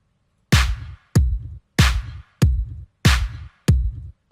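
A punchy compressed kick drum repeats in a steady beat, alternating with bright, crisp layered clap hits on every other hit, loud and dry.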